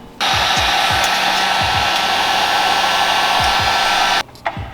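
A heat gun blows a steady, loud broadband roar for about four seconds while shrinking heat shrink tubing over a crimped wire end during an air ride install on a 2018 Subaru STI Type RA, then cuts off abruptly.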